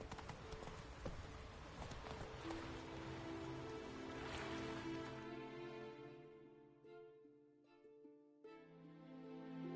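Roach, a horse in The Witcher 3, gallops through rain with quick, steady hoof clip-clops over a hiss of rainfall. The galloping fades as sustained musical tones take over.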